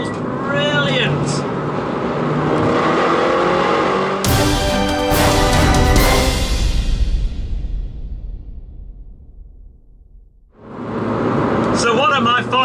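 A road-legal R56 Mini Challenge with 280 bhp is on the move. Its engine note rises under a voice, surges into a loud, harsh burst in the middle, then drops away almost to nothing before picking up again.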